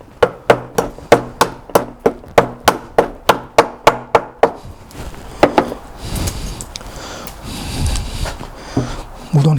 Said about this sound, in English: we're going to use that hammer to knock these pieces off